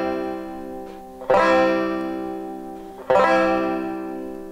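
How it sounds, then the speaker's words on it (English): Two plectrum banjo chords strummed with a pick, each an easy downstroke across all four strings, ringing out and decaying between strokes; close, clear and with no talking. "By hitting all four strings with any easy downstroke of your pick, it sounds like this."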